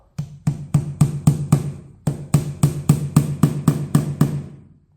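A hammer drives a nail into wood in a furniture assembly job, with about fifteen sharp, close, evenly spaced blows in two quick runs separated by a brief pause.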